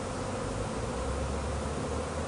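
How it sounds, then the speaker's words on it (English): A swarm of bees, not killer bees, around a nest gives off a dense, continuous buzzing hum that stays steady and fairly close throughout. "We have got a swarm of killer bees"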